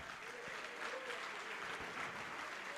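A church congregation applauds, a steady spread of clapping from many hands sustained throughout at moderate distance.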